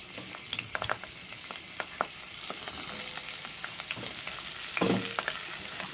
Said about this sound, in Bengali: উচ্ছেগুলোকে ভালো করে ভেজে নেব।